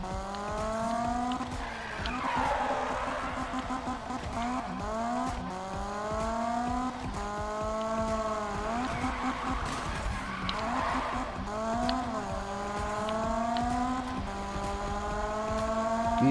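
Cars drift and slide in Need for Speed 2015, the engines revving and falling in repeated waves while the tires squeal through long sideways slides, loud and continuous.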